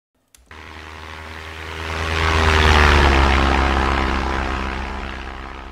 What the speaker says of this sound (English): The old airplane sounds pretty nice to me.